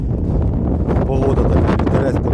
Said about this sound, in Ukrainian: Вибачайте, якщо вітер погано чутно